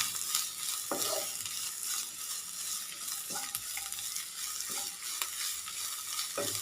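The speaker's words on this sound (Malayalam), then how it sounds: "ഇത്രയും ചേർത്തിട്ട് നന്നായിട്ടൊന്ന് വഴറ്റി കൊടുക്കാം" Ginger sizzles in hot oil with dried red chillies and curry leaves as it is sautéed, a steady bright crackle broken by a few sharp stirring scrapes of a spoon against the pan, close and alone.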